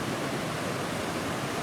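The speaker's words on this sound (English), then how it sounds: "River is raging right now." A swollen mountain creek rushes and roars over small waterfalls on the Castle Dome trail, a dense, steady wash of water close by with no voices.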